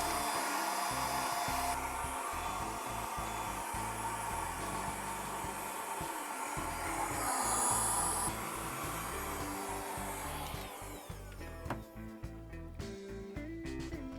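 A vacuum draws dust out of an opened PS3 console, a steady loud whooshing roar held for most of the stretch. Near the end the roar gives way to softer clicks and handling.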